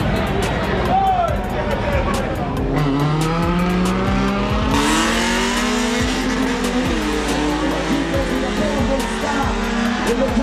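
Honda Civic launching down a drag strip at a drag racing elimination event, its engine roaring loud and steady with pitch climbing through the run, tire squeal and crowd babble mixed in while an announcer talks over it.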